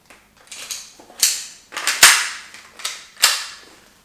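A T4E magfed paintball pistol has its slide racked back and released several times, each a sharp metallic snap or clack in an irregular sequence, loud and close with no talking.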